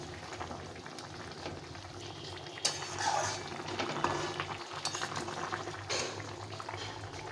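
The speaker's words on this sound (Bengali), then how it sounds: "ঝোলটা দেখো ভালো করে ফুটে গেছে" Fish curry gravy made with morola fish and tender stalks bubbles and simmers in a pot, a soft continuous boil with occasional popping bursts and faint utensil clicks, fairly quiet and without speech.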